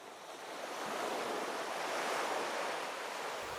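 Ocean surf rolls in with wind blowing over it, a steady broad wash of waves that swells and holds loud throughout, with no voices.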